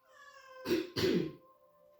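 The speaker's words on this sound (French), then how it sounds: "le petit chat de la maison, hein, qui s'amuse à parler en même temps que moi" A small house cat meows indoors, giving two loud, close, throaty meows in quick succession, with a faint tonal hum in the background.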